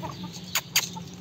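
Free-range chickens pecking at leftover feed on a farm give two short, soft clucks over a low, steady background hum.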